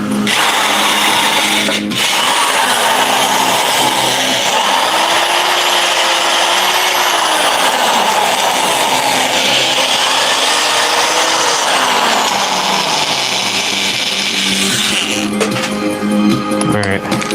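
Power tools running in a home garage with a continuous loud whine and grinding roar that holds steady for most of the stretch, shifting pitch now and then, with a sharp knock early on.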